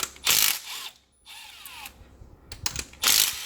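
A 12 mm ratchet undoes injector clamp bolts on a 4JJ1 diesel engine, giving short close bursts of rapid clicking separated by quieter handling noises.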